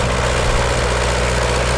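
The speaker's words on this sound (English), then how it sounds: "driving a few tractors here at this particular vintage tractor pull" An International McCormick vintage tractor works at a tractor pull, its engine a loud, steady low drone with constant rumbling vibration throughout.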